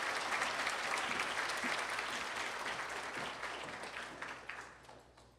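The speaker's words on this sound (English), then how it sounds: "let's have a nice round of applause again for all of our sponsors for today's luncheon" A luncheon audience gives a steady round of applause for its sponsors at a school district awards event, dense clapping that holds evenly and then thins and tapers toward the end.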